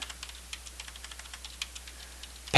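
Rapid, uneven keystrokes on a computer keyboard, with crisp close clicks in a steady burst and no talking.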